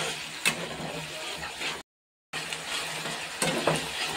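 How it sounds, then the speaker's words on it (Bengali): Spice masala for a prawn dish being stirred and fried in a pan with tomato ketchup, a steady close sizzle with scraping stir strokes and a brief gap of silence midway. "ভালো করে মশলাটা কষে নেব"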